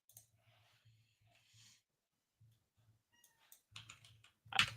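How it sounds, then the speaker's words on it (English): A domestic cat meows a few times, faint and close, over soft scattered clicks, then one louder cry near the end. "Oh, that's my cat."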